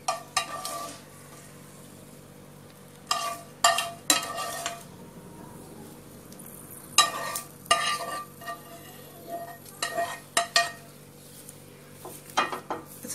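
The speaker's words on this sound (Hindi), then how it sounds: "तड़के को हम ढोकले के ऊपर डाल देंगे।" Hot oil tempering is poured over semolina dhokla, then stirred and spread with a metal spoon, giving a soft sizzle broken by repeated clinks and scrapes against the dish at irregular intervals.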